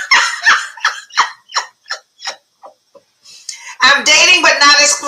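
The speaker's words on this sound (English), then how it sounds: "Whoa, doggy." Small dog yipping and barking in quick repeated bursts close by, then excited overlapping voices and noise take over.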